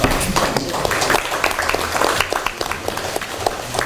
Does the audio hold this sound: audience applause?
yes